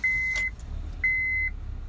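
A 7th-generation Honda Civic with a P1519 idle air control valve fault idles in freezing cold, about minus 10 °C, with a steady low engine rumble and two high electronic chime beeps from the dash.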